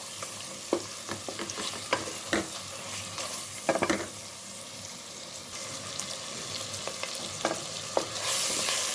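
Spices sizzle and fry in a pan for chicken pulao, with steady close crackling broken by sharp stirring scrapes and clinks, no talk.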